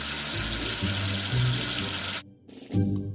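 Running tap water rinses soap away in a loud, steady rushing stream for about two seconds, then cuts off. A short splash and gurgle follow, with no talking.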